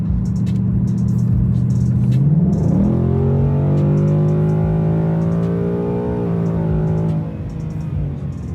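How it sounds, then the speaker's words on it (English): A Fox body Mustang with a Coyote engine on hard original tires accelerates at speed, its engine note climbing sharply then holding a steady loud drone through a gear before easing off, with road rumble underneath. "at 80 miles an hour, this car will break loose with you."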